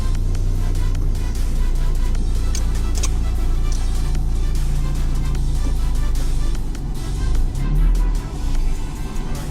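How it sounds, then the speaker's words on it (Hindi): A car on a test drive after its final fitting: a steady, loud engine and road drone with rumbling low end, continuous throughout, with faint clicks and rattles and no talk. "अब इसकी ट्राई लेते हैं गाड़ी की।"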